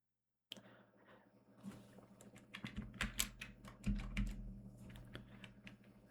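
Quiet, close typing on a computer keyboard, a quick irregular patter of key clicks with a few louder strokes and no talking.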